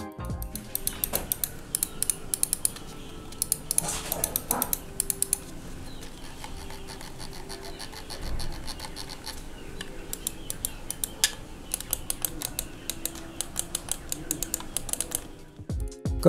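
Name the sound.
Dareu A960 gaming mouse button clicks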